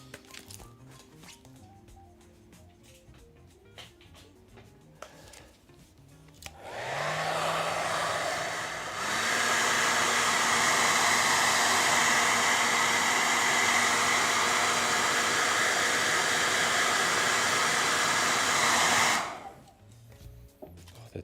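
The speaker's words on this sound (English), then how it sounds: "I'm gonna get my hairdryer here." Hair dryer drying mud-textured paint on a model, switching on with a whoosh after quiet handling noises, blowing loud and steady for about twelve seconds, then cutting off.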